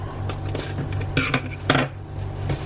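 Scissors snipping through the packaging of a GoPro Hero 7 Black during an unboxing, a few short crisp cuts close by over a steady low hum, with no talking.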